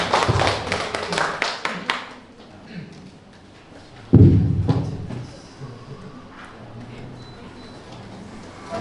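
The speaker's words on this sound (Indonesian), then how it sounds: "Kita beri aplaus untuk kita semua." Audience applause at an Indonesian school gathering on the Merdeka curriculum: a burst of clapping and taps for about two seconds, then scattered claps and thuds, with a louder thump midway and murmuring crowd noise trailing off.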